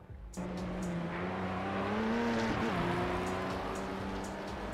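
Race car engine in the Project Cars game, a loud continuous drone rising in pitch as it accelerates, with a brief wobble where the rear slides out on a kerb.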